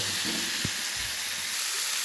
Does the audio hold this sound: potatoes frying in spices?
yes